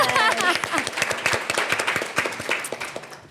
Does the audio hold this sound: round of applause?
yes